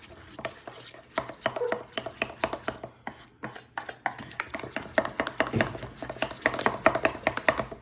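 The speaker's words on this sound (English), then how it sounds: "And let's give her a mix." A spoon or whisk works mustard sauce ingredients with pepper and salt around a bowl, a quick run of repeated clicking scrapes close by with brief pauses, with no talking.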